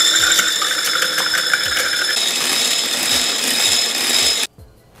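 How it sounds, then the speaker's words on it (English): Egg white and sugar whipped toward a foamy meringue, a continuous dense whirring with repeated rhythmic strokes at close range, stopping abruptly near the end. "we're just gonna whisk this, incorporate some air, get this to a nice meringue"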